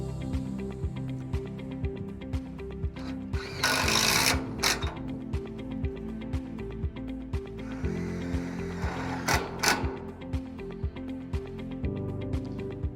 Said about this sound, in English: Screwing through the bottom of the rail into the sleeper.